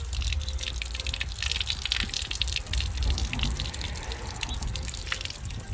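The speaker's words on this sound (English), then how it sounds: "just going to give it a flush through with the hose" A hose flushes water through a car radiator from a Tommi Makinen Evo 6, giving a steady close gushing and splashing with dripping and trickling throughout.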